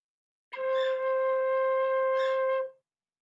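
A single sustained tin whistle note with holes one to six covered, blown gently, holding a steady pitch for about two seconds with clear overtones, alone and near.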